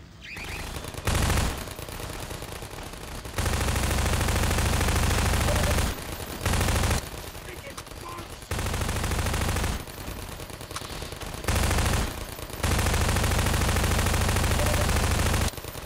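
Automated turret machine guns firing in the video game Half-Life 2 Episode 2, coming in loud, sustained bursts of rapid fire lasting several seconds each, separated by brief pauses, with dense close-range chatter.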